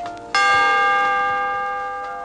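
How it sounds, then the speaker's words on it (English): A single bright chime rings out after a brief quiet moment, its clear tone sustaining and slowly fading over about two seconds. "when you hear the chime, turn the page."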